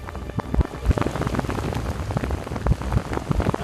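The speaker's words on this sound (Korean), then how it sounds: "갑자기 비가 쏟아지기 시작했다." Heavy rain pours in the Himalayan mountains, a dense, steady hiss of drops pattering on surfaces, loud and close throughout with scattered heavier splashes and no voices.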